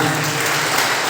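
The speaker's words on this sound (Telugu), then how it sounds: "స్పీక్ రౌండ్ ఆఫ్ అప్లాస్ ఒకసారి చప్పట్లు" A church congregation claps in a dense, loud round of applause, many hands sounding together as a continuous roar for the whole moment.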